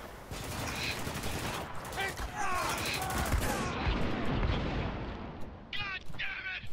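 Heavy gunfire in a Spec Ops: The Line firefight, with sustained rattling automatic shots and booming impacts, loud and close, mixed with shouted voices.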